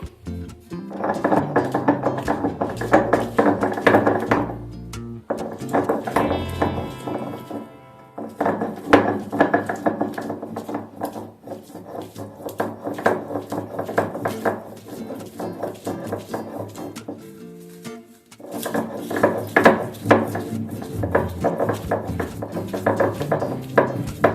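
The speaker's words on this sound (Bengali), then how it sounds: "প্রথমে এগুলোকে বেটে নিচ্ছি।" Garlic and chillies are ground on a stone slab with a stone roller, producing close, rhythmic scraping and knocking strokes in repeated bursts, broken by short pauses.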